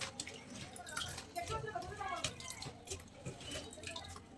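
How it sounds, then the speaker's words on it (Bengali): Cut cabbage and pumpkin pieces are rinsed under running tap water in a home kitchen, with a soft, steady splashing and trickling throughout at low volume. "সবজি কাটা হয়ে গেছে এবারে ধুয়ে তুলে রাখছি"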